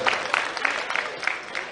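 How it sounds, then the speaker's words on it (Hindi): A crowd at a public gathering in a market square applauds a politician, a brief burst of hand claps with pulsing swells, moderately loud. "आदरणीय तुलसीराम सिलावट सिंह जी जोरदार तालियां बजाकर उनका अभिनंदन करें"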